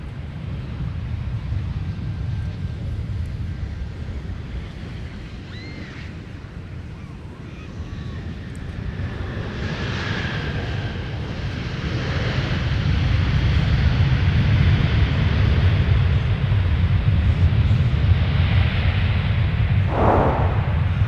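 An airliner landing on runway 12 right at Minneapolis–Saint Paul airport, its low broadband roar swelling and holding steady through the second half, distant and smeared by wind buffeting the microphone.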